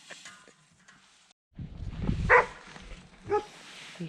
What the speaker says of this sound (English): Well, I guess the dogs want out.